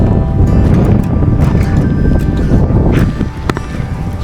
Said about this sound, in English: WA, windy always, super windy